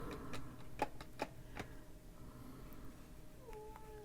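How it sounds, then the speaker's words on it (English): A small male house cat meows faintly in the background indoors, a short rising call near the end, amid a few quiet ticking taps and low room noise. "My cat is meowing."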